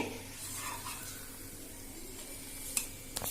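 A chicken burger patty fries gently in a pan over a low flame, with a soft continuous sizzle and a few faint clinks near the end.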